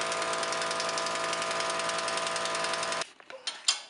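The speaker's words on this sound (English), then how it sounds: "We got an impact gun. A sweet impact gun." Pneumatic impact gun removing studs, powered by a small 8-gallon compressor, hammering in a loud, rapid continuous burst for about three seconds before stopping abruptly, followed by a few short clanks.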